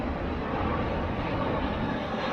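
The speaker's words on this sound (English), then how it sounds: "I'm not sure if you can hear me because the plane is flying through" An airplane passing overhead makes a continuous broadband roar that stays loud and even for a couple of seconds, with no voices over it.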